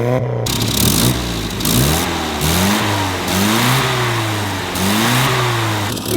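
A 1962 Morris Mini Traveller's small engine runs close by, revving repeatedly in rising and falling sweeps over a steady idle.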